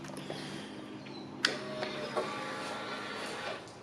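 A Harley-Davidson motorcycle's fuel pump primes before a first start attempt on a broken bike in a garage: a quiet, close mechanical whir with a few light clicks lasting a few seconds.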